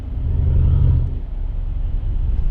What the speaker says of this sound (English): Just the turbo spooling up and down. It's that growl, that sort of guttural sound